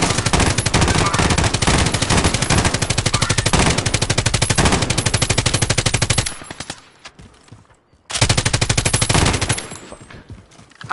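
Rapid automatic gunfire in a video game, loud and close, with one long sustained burst, a brief quieter gap, then a second burst that trails off.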